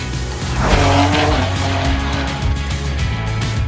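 A Schirmer BMW G87 M2 development car driving hard on the Nürburgring during a track day, loud engine roar with tire squeal as it corners close by.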